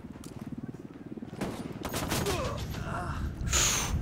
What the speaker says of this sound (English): These boys have got some heavy guns on them, light machine guns by the sound of it